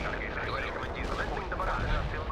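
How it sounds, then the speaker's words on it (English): Artillery saturation barrage in the World in Conflict strategy game: a dense, continuous rumble of distant shell fire and explosions that runs steadily throughout, with a voice talking over it. "Saturation barrage, yeah."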